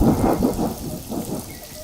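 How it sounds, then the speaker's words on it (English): Steady heavy rain with low rolling thunder in a radio drama storm scene, loud and continuous throughout with no voices. "This storm wasn't here a few minutes ago."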